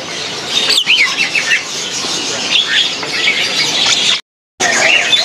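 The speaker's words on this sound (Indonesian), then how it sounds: "Gacor nih biasanya kalau udah dewasa dari jenis burung jalak." Adult starling (jalak) at a bird market, Pasar Burung Pramuka, singing with bright, busy chirps and whistles that run continuously amid other birds' calls and wing flutter, with a short gap of silence near the end.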